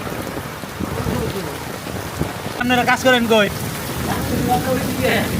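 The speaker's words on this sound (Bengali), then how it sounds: "বাহিরে যেহেতু প্রচণ্ড রকমের বৃষ্টি" Heavy rain pours down outdoors in a constant hiss, and people talk close by over the downpour.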